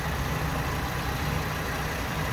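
A Holden Calais with an overheating coolant flow problem, its engine running at a steady idle: a continuous low droning hum, close and moderately loud, with no talking.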